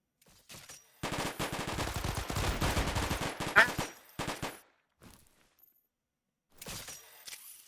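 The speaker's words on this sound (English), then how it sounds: "let's try out the sniper rifle. We'll pull out the Pulse SMG." Bursts of automatic weapon fire in the video game Helldivers, a dense rapid volley for about three seconds followed by a few shorter scattered shots, with brief gaps of quiet between.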